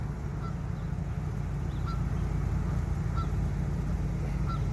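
Ducks honk and call in short, regularly repeated bursts over a steady low rumble of background noise, moderately distant and with no talking.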